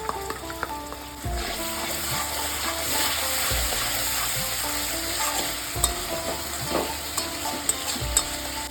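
Fish curry masala with yogurt sizzles and fries in a pan, a steady hiss broken by repeated scraping and knocking of a spoon as the paste is stirred, close and moderately loud.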